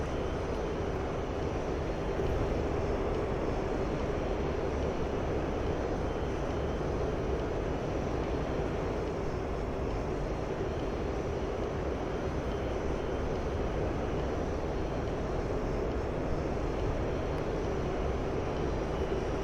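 Mirage F-1 jet engine in a flight simulator game, a loud steady broadband roar that holds evenly throughout without pause, no talking.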